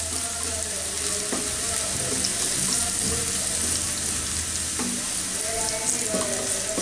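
Chopped garlic fries in hot oil over high heat for vegetable fried rice, a steady loud sizzle with occasional stirring clinks, while a faint distant voice carries in the background.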